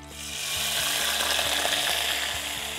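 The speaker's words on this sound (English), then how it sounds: "now you deglaze with a lemon juice" Lemon juice poured into browned butter in a hot pan while cooking sole meunière, making a loud, steady hiss and sizzle with faint crackles that holds for the whole stretch.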